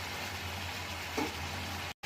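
Pepper chicken frying in a pan with four green chillies, the meat releasing its juices, gives a steady close sizzle for about two seconds with one brief stir, then cuts out at the end.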